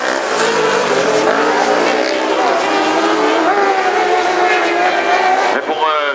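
A racing kart in an open kart qualifying heat roars loudly past at close range, its high-revving engine whine sustained throughout and shifting pitch near the end, with talk partly over it.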